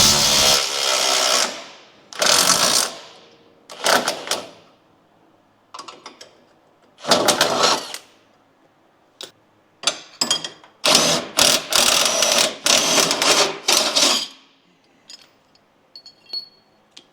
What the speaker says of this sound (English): Now we just need to remove the front spring eye bolts on both sides.